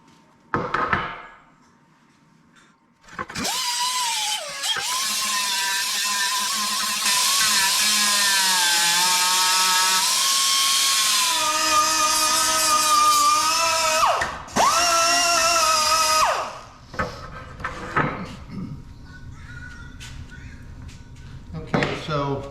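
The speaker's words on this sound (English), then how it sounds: "I'm gonna grind those off now and sand it." An angle grinder or sander works on welded sheet metal end caps of a custom hood molding, a loud sustained whine with shifting pitch running for most of the stretch, stopping briefly and starting again before trailing off.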